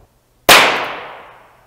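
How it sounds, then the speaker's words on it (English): The explosive failsafe charge on a Tesla Model S inverter fires as a single sharp, loud bang from near silence, its noisy burst decaying over about a second. "There's actually an explosive charge on the inverter. they actually trigger it."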